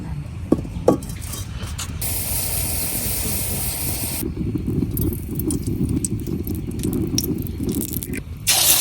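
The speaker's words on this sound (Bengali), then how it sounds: "এখন আমি শুধু ডিমটা ভাজি করে নিলাম" A duck egg fries in a pan with a continuous, fairly loud spitting hiss. The sound swells and falls in sections, with a few sharp clatters near the start and a louder burst at the end.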